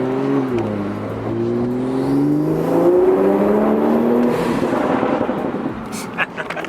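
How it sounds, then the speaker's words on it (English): A 2020 Toyota Supra's exhaust drones loudly from inside the moving car, its pitch shifting through gear changes and rising under acceleration before easing off, with a few faint clicks and knocks near the end. "Still loving that exhaust."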